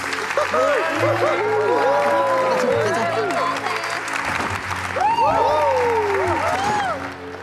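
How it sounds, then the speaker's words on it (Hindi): Applause at a school certificate ceremony in a dubbed drama scene: steady crowd clapping with some cheering runs throughout while several people talk loudly over it. "जोरदार तालियां प्लीज।"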